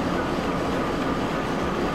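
A long freight train in the rail game Transport Fever 2 gives a steady, dense rumbling roll that holds even for two seconds, with no talk over it.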